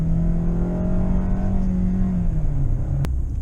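A 2020 Hyundai Santa Fe engine held around 3,000 RPM in sport mode, a steady droning hum that sags slightly near the end before a sharp click, heard from inside the cabin at moderate volume.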